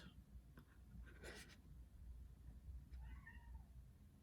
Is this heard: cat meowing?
yes